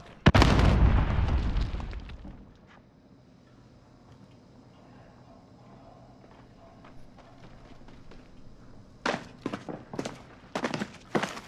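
A fragmentation grenade goes off in a video game with a loud, deep boom that decays over about two seconds, followed by quiet ambience and then a cluster of sharp clicks and impacts.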